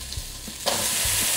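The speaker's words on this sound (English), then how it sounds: "Now while I've got those things on the fry" Spam burger patty and a pineapple ring sizzling in a frying pan, a quiet crackle that jumps to a loud, steady hiss about halfway through as the pineapple ring is added, with no talking.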